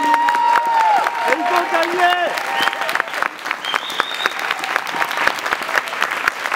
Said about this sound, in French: Applaudissez-les parce qu'ils se sont battus.